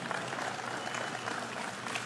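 A lobby audience gives a brief, thin round of applause, steady light clapping throughout with no voices over it.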